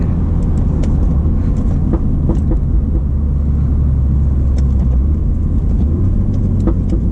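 Steady, loud low rumble from a Mini Cooper JCW F56 engine with a Dinan Elite Stage 1 tune, pulling uphill in sixth gear, heard from inside the cabin with continuous road and drivetrain drone.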